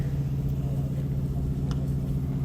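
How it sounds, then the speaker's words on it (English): The engine of a 1970 Pontiac GTO Judge tribute car idles nearby with a steady, deep, lumpy rumble and no clear revving. "1970 Pontiac Judge Tribute"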